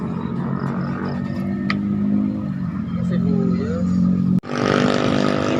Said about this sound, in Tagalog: Gamit yung motor oh.